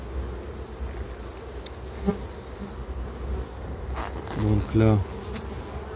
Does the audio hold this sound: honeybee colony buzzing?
yes